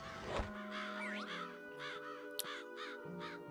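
Crows cawing in the game Psychonauts, a string of repeated rasping caws at a steady pace, faint and clear over quiet game music, with no talking.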